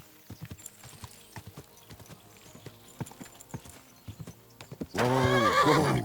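A horse in Kingdom Come Deliverance 2 clops its hooves in an uneven, nearby walking rhythm, then lets out a loud, drawn-out whinny at the end.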